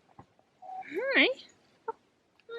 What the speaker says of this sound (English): Can't believe we've got a cock.